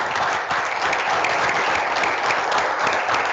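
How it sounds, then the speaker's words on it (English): A panel audience applauds steadily, a dense, even wash of clapping that holds at full volume throughout with no talk over it. "let's give the panel a round of applause"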